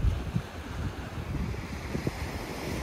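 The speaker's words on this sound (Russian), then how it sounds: "Волнуется море. Дует легкий ветерок." Black Sea surf off Sochi on a sunny, clear day, with a light breeze: a steady broadband wash of waves and wind, moderately loud and continuous, with a few soft low thumps of breaking water and no voices.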